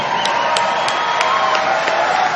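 Dense crowd applause and cheering at a Donald Trump rally in Houston, Texas, a loud sustained wash of clapping with scattered shouts, no gaps throughout.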